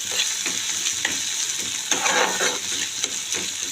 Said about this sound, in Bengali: আর এদিকে দেখুন পেঁয়াজটাও ভাজা হচ্ছে।